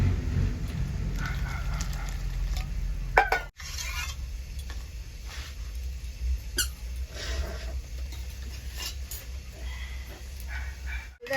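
A vegetarian banana flower curry with lentils being stirred in a pan, with faint scraping squeaks and soft clinks of a utensil against the metal over a low background hum, with one brief dropout partway through.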